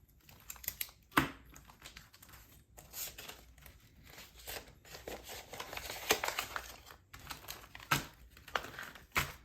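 Crisp paper cash bills rustle and crinkle as they are pressed into a paper savings envelope, a quiet, close series of irregular shuffles, flicks and crumples with brief pauses between them.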